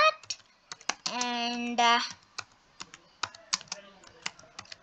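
Keyboard typing on a computer keyboard while building a Google Slides escape game, a quick run of close clicks around a sung or spoken stretch, with a voice talking between bursts.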